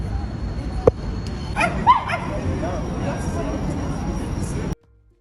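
Women imitating dogs with their voices, giving a few short yapping barks and whimpers amid steady background noise and talk, the sound cutting off abruptly near the end.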